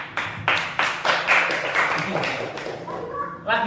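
Children in a classroom clap together in a rhythmic pattern of about a dozen sharp, evenly spaced group claps, close and fairly loud, followed by a brief voice at the end.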